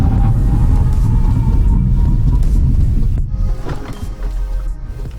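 A Cupra Born electric car weighing over 1800 kg brakes hard during a performance test. A loud, close, steady road-and-tyre rumble eases and thins after about three seconds.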